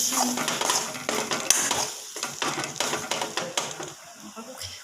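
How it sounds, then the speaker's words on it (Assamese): A spoon scrapes and clatters in a pan while milk is stirred into a paste, with repeated short scraping strokes under a voice speaking throughout. "আৰু অলপ গাখীৰ দি লৰাই থাকিম যাতে পেষ্ট টাইপৰ হয়।"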